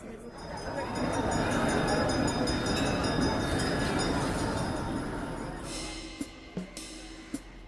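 Tram ride in a Kolkata audio thriller: a steady broadband rumble of wheels and carriage noise rises and holds throughout, then thins near the end into a few sharp clanks and knocks.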